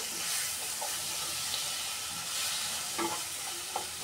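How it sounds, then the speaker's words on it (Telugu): Raw tamarind chutney with turmeric frying on low heat in a pan, a soft continuous sizzle with occasional light scraping and stirring strokes. "పసుపు కొద్దిగా, ఒక 5 మినిట్స్ బాగా సిమ్లో పెట్టుకొని బాగా వేయించుకోవాలండి."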